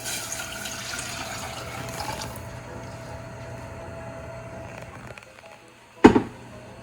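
Liquid poured into a powder mix for gravy, a soft trickling pour that thins out over several seconds, ending with a sharp clunk as the container is set down.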